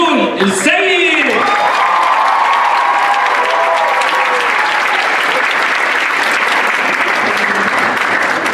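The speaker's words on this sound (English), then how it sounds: "Can I just have another round of applause for the incredible organizers and the incredible performers here tonight?" An indoor audience at an Arab cultural arts event breaks into sustained applause and cheering to welcome a speaker, loud dense clapping that continues steadily to the end after a brief burst of voices.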